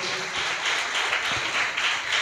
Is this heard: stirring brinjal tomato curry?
no